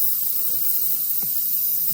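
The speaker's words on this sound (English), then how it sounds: "Spray on the stencil and do that." Spray paint hisses steadily onto a stencil while a cardinal's feathers are painted, a close, continuous airy spray filling the whole moment.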